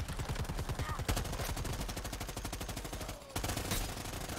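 Rapid automatic gunfire in the video game Predator: Hunting Grounds, a dense rattling burst that briefly pauses before resuming, steady and moderately faint.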